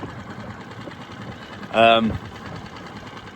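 A Tohatsu 6HP outboard motor idles at trolling speed on an inflatable fishing boat, giving a low, steady, quiet hum beneath someone talking.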